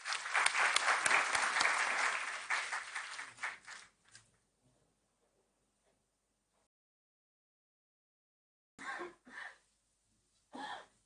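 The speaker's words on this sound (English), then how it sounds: "A big round of applause," Audience applause at the Delhi High Court inauguration of an online e-inspection facility, honouring the Chief Justice of India; a loud burst of clapping lasts about four seconds and dies away, followed by silence and two brief, quieter sounds near the end.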